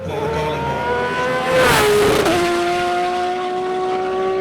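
A time attack race car built on a Porsche 911 chassis, at a CSCS track round. The engine sounds loud and close, revving hard with a sharp rise in pitch as it blasts past, then holds a steady high drone.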